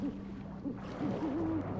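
Owl hooting in the video game Never Alone: several short low hoots followed by a longer wavering call, fairly close, over a steady ambient drone and with no one talking.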